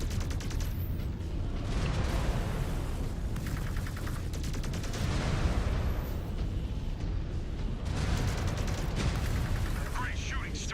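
Heavy battle mechs trade weapon fire in a sci-fi war game, a dense, continuous barrage of booming cannon blasts and rattling bursts under rumbling battlefield noise, loud throughout with layered impacts.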